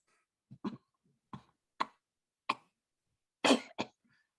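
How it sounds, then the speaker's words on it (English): A series of sharp, harsh coughs in irregular bursts, about six fits with short pauses between, the last pair louder and more forceful. "She is coughing violently."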